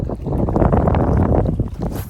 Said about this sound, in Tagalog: Grabe lakas ng hangin. Ang lakas ng hangin.